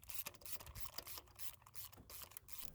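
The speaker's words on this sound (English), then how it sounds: "using a ratchet you'll want to turn it counterclockwise" A hand ratchet turned counterclockwise to loosen a car's spark plug gives off a fast, close series of metallic clicks in short bursts, with no talking.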